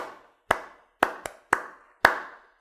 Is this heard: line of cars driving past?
no